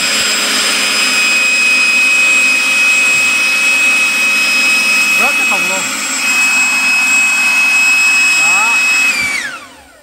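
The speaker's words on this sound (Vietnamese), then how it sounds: "thì cái này thổi lá phản lực của Ryobi 40V, bản nhập Mỹ" A Ryobi 40V cordless jet-style leaf blower, a US import, runs on turbo with a loud, steady rushing roar and a high whine, then spins down at the end. Faint voices come through briefly underneath.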